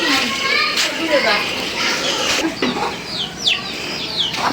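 Chickens clucking close by near their coop in a yard, under loud children's voices and shouting.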